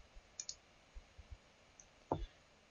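Computer mouse clicks while building Scratch blocks on Windows 10, a handful of faint, sharp, irregular clicks close to the microphone with quiet room tone between them and no talk.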